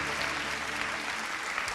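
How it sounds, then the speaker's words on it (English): A large audience at an AI summit bursts into loud, continuous applause, a dense, even wash of clapping that fills the whole moment without a break. "Give yourselves a big round of applause."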